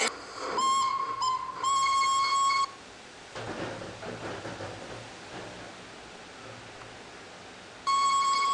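A loud, shrill steam whistle blows in several sharp blasts, then falls silent while a train chuffs and rumbles, before sounding again at the end.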